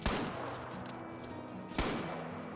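Two sharp handgun shots ring out in the Call of the Wild hunting video game, with a pheasant hunt underway and a short gap between them, each cracking over a steady outdoor ambience.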